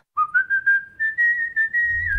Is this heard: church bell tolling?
no